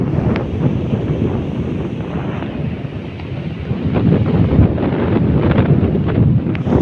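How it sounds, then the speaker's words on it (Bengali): Strong wind on the bank of the Padma river roars against the microphone in a continuous, buffeting rush, growing heavier and gustier in the second half, with rain nearby. "বাবা কি বাতাস!"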